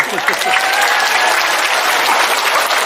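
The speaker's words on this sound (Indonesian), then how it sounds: "Tepuk tangan untuk Mas Ipang Wahid." A crowd applauds loudly and continuously at an Islamic boarding school gathering, with a dense wash of many hands clapping and faint voices underneath.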